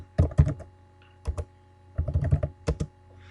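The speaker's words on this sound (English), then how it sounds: "And A4, we're going to type in exercise bikes." Keys tapped on a computer keyboard while entering text into an Excel spreadsheet, a few quick clusters of clicks separated by brief pauses, close and clear with no talking.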